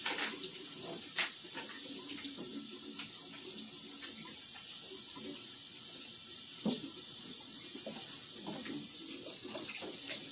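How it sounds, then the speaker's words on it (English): Tap water runs steadily as food is rinsed in a kitchen while cooking dips, a faint, continuous hiss with a few small knocks and splashes and no talking. "I better rinse these off a little bit"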